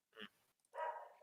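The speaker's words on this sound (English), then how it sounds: "Oh, and my dogs are barking." Dogs barking indoors, faint and somewhat distant: a short yip followed by a longer, fuller bark within about a second.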